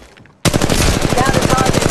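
Automatic weapon fire in Apex Legends Mobile starts abruptly after a brief quiet moment, then continues as a loud, dense, rapid stream of shots to the end.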